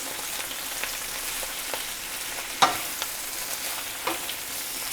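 Spinach and basil crackle in hot oil in a nearby pan, a dense, even hiss broken by occasional light clicks and one sharper clatter from a utensil, with no voices.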